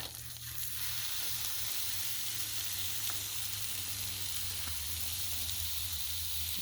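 Ground beef sizzles steadily on a hot griddle, a constant crackling hiss with faint scraping, no voices.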